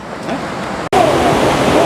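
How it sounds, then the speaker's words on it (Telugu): Water pours down from the Srisailam reservoir and is heard from a bridge above as a loud, continuous rushing roar with a brief cut midway. "ఈ వాటర్ అన్నీ కింది పోతూ ఇట్లా కనబడుతూ ఉంది అసలు బాగుంది వాటర్ సౌండ్"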